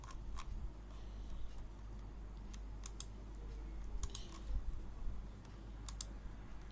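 Quiet computer keyboard typing, a few soft scattered key clicks with small bursts, close and faint against a low steady hum, no voices.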